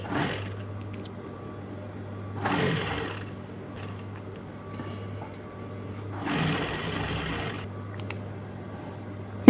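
A sewing machine runs a steady half-inch seam through folded scarf fabric for a braided turban, a constant low motor hum with two louder bursts of stitching a few seconds apart.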